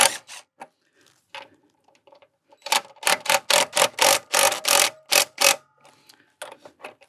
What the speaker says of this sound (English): we'll go ahead and loosen up these 3 bolts